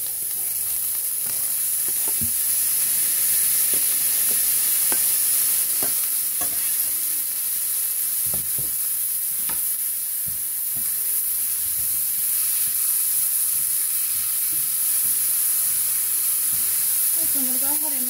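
Carrots, celery and onions sizzle steadily in a pan with pork, a loud continuous hiss with scraping stirs and clinks of the utensil, and a voice speaking briefly near the end.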